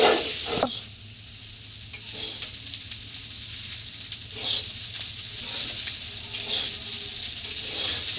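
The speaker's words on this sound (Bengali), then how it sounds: "ভাত ভাজি করা হয়েছে, আমি ডিম ভাজা দিব।" Eggs frying in a pan for breakfast, with a continuous close sizzle and hiss broken by occasional scraping stirs, steady and loud with no talk.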